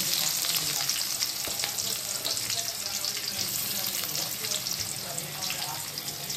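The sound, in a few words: tempering of mustard seeds, curry leaves and onion frying in oil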